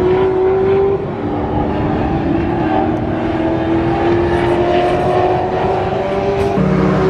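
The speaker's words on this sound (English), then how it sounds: "Oh look, cars." Cars running on the old Silverstone circuit, a steady loud engine drone with a sustained tone that slowly rises in pitch, heard without talk throughout.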